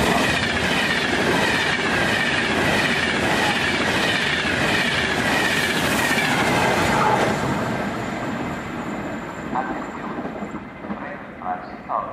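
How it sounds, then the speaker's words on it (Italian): A train rushes through Carimate station on track 2 without stopping, a loud continuous rumble and rattle of wheels on rails with some squealing, gradually easing off near the end. "treno in transito al binario 2, allontanarsi dalla linea gialla."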